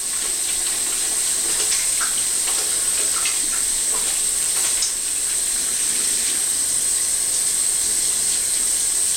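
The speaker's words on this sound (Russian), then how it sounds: "сейчас я помою руки от пришейва, чтобы ничего не вылетало" Hands are washed under a running bathroom tap during a straight-razor shave, a steady close hiss of flowing water with light splashing and rubbing throughout.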